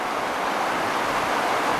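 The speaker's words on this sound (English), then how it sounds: "kind of got these little rapids" Small rapids in a backcountry river, a steady broadband rush of flowing water, close and fairly loud, continuous with no talk.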